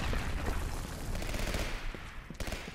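Dense, chaotic gunfire and explosive bursts in the shooter game Legendary, a loud, continuous barrage of overlapping shots with no talking.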